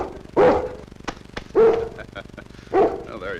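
A dog barks three times in loud, close, separate woofs about a second apart, with a brief whimpering yip near the end.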